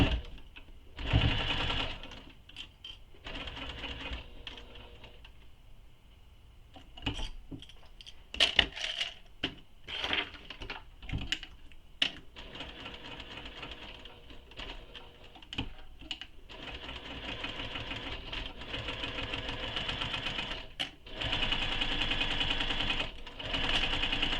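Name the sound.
sewing machine stitching a quiver sling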